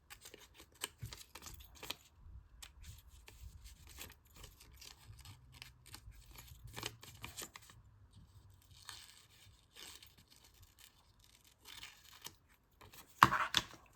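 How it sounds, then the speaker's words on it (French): Scissors snip and tear through paper while assembling a collage, a string of soft, close cuts and crinkles scattered through a quiet room, ending in one sharper, louder rustle. "C'est la main gauche qui bouge, et le ciseau, lui, il a juste à couper, à faire sa job."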